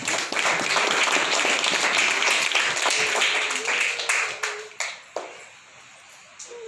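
Audience applause fills a hall during a Telugu Christian sermon, loud dense clapping that holds steady, then breaks into scattered individual claps as it dies away.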